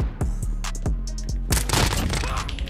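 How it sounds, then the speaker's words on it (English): Explosions and gunfire in the Modern Warfare video game, several sharp, loud cracks and booms in quick, uneven succession with ringing tails, ending in a denser burst of blasts. "All these explosions."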